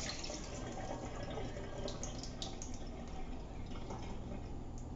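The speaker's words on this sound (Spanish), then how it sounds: "Le voy a tirar aquí el agua." Water poured off soaking apple pieces into a sink while making apple salad, a steady close splashing stream running continuously throughout.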